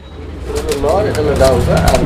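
Pigeons coo close by, soft throaty calls repeating in a steady rolling rhythm.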